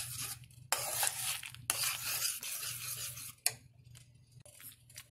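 A spoon scrapes and stirs thickening pineapple halwa with cornflour in a pan, a close, repeated rasping of bursts and pauses over a low background hum, with no voices.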